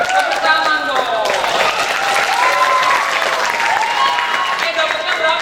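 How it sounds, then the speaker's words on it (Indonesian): Lively applause and cheering from a crowd of students at a Ramadan short Islamic school session, dense sustained clapping with excited voices and shouts over it, loud and close throughout. "tepuk tangan dong"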